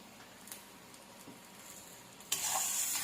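Tomato sizzles in hot oil with curry leaves, salt and turmeric. A quiet stirring and crackle builds to a loud, steady frying hiss that carries through to the end, with no talk.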